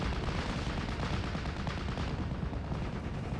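Rifle and machine gun fire rattles without pause through a battle in the World War II strategy game Steel Division 44, forming a dense, loud wall of shots and distant booms with no clear gaps.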